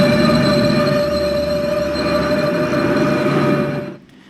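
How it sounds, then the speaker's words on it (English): Traction motors of a Thameslink Class 700 electric train in Train Simulator 2022 give a loud continuous whine with steady tonal hum and rail rumble, fading out abruptly at the end. "I swear the motors on the real 700s don't sound like this in real life."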